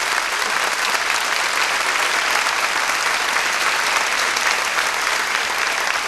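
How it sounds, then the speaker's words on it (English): Sustained applause from a large crowd at an award presentation, dense and even, filling the whole stretch without letting up. "how about a nice round of applause for all the award winners?"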